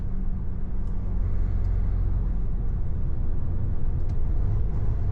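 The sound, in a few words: road traffic heading to Creamfields festival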